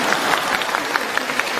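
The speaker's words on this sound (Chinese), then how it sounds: "鼓掌" Audience applause at a Dharma Master Lu seminar in Malaysia, a steady dense patter of many clapping hands filling the whole moment without pause.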